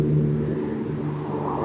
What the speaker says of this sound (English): I can hear the car behind me